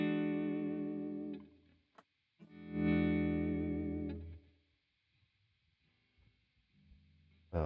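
A sustained effected guitar chord swells up, fades, then swells again, with chorus and distortion coloring the tone, ending in near silence.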